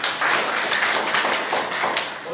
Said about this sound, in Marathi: निश्चित जोरदार टाळ्या त्यांच्यासाठी